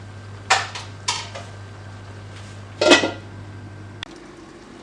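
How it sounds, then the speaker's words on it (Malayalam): Metal clanks as a lid goes onto a cooking pot while vellarikka pachadi, a cucumber and coconut curry, simmers; a few sharp separate clinks and a rattling settle, then a last tap, over a steady low hum. "അപ്പോൾ നമുക്കത് മൂടി വെക്കാം."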